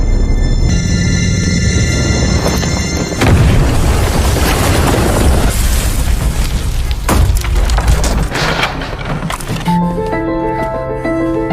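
A loud explosion booms and crackles, followed by rumbling debris and sustained roaring noise, with a musical tone emerging at the end.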